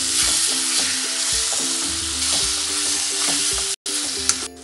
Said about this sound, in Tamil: இப்போ நம்ம வதக்கிக்கலாம்.